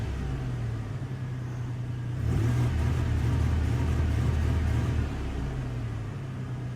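A 1996 Toyota T100 engine with a misfire idles, then revs up briefly to a rougher, louder rumble before settling back to idle, heard close and alone.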